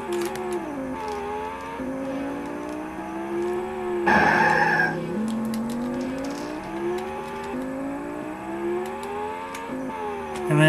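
Racing car in the Amiga game Top Gear 2000, engine tones rising and falling with a burst of braking and tyre skid in the middle, all synthesized game audio with no speech.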